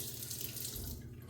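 Water runs steadily from a bathroom tap into a sink while a safety razor is rinsed under the flow, a continuous close hiss with no talk.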